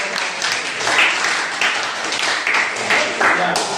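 Classroom students clap their hands together in a steady burst of applause, fairly loud and continuous, with a few louder bunched claps throughout.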